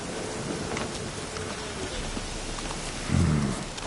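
In The Witcher 3, steady rain hisses across the scene and a low rumble of thunder swells near the end.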